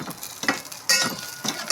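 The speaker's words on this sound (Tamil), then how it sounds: "போட்டு நல்லா வதக்கி விட்டுக்கலாம்." Sliced onions sauté in a hot pan, a steady close sizzle broken by stirring scrapes and soft clinks of a utensil.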